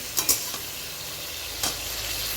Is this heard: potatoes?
yes